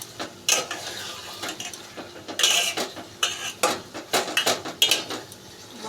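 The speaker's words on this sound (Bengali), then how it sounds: "এবার আমি এটাকে এবার নাড়ব" Spoonfuls of methi chicken curry stirred in a metal pan, giving repeated scraping and clinking taps at an irregular rhythm, close up and moderately loud with no talking.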